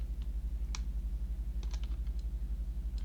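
Scattered, faint clicks of computer keys, a few single taps and a quick cluster, heard behind a strong steady low electrical hum with no talking.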